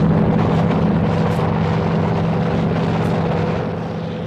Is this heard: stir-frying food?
no